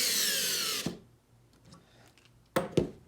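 Older Vessel electric screwdriver run in one solid burst, a loud high whirring motor that cuts off abruptly, followed by quiet handling clicks and two short sharp knocks near the end.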